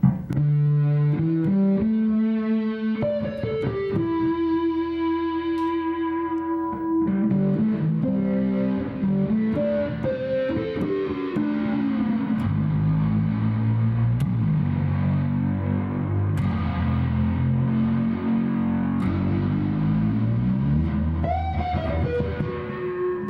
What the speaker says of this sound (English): with the distortion I'm using, which I'll explain, I'm using an A1, Korg A1 back there, and my ADA MB1 distortion channels